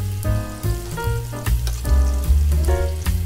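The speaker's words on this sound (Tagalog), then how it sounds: "haluin lang po natin para maluto po ng pare-pareho, pantay po ang luto." Sliced hotdog and onions fry in a pan while being stirred, so a continuous sizzle mixes with repeated scraping and clattering strokes. Background music or tones play underneath.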